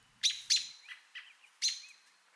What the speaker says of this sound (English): the robin might make a tweet and tut call like this